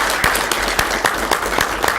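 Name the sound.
applause for the EDAC committee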